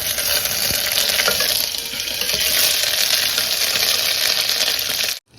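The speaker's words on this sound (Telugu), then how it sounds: "నేను దీంట్లో 1 టీ స్పూన్ ఆఫ్ అల్లం వెల్లుల్లి పేస్ట్ యాడ్ చేస్తున్నాను. ఆయిల్లో ఫ్రై చేస్తే మంచి ఫ్లేవర్ వస్తుందండి" Ginger garlic paste frying in oil on low heat, a dense continuous sizzle heard close up until it cuts off abruptly near the end; nobody talks.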